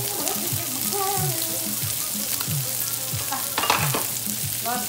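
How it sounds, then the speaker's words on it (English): Onions and garlic sautéing in a paella pan, a dense close sizzle with repeated spoon scrapes in a steady rhythm and a brief clatter near the end. "I'm gonna let this saute for about a minute."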